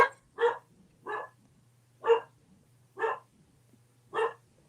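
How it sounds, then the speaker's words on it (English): Dogs bark indoors in six evenly spaced sharp woofs, close and moderately loud over a steady low hum, with no talking. "You hear my dogs?"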